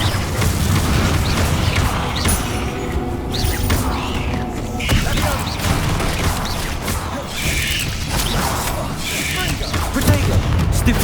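Incendio fire spells blast in the video game Hogwarts Legacy, producing repeated loud booming bursts and crashing impacts amid a dense, chaotic combat din, with voices calling out between the blasts.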